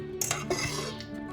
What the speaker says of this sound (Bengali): আমি একটু নেড়ে দিচ্ছি